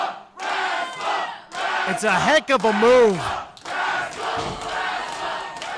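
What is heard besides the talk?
wrestling crowd cheering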